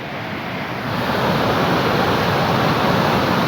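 A powerful hillside waterfall roars in heavy rain, a dense, loud, unbroken rush of falling water that swells slightly after the first second and holds steady.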